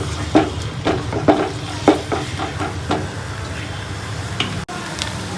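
Cumin and panch phoron fry in hot oil, a low sizzle punctuated by regular stirring scrapes and clicks, with a brief dropout near the end.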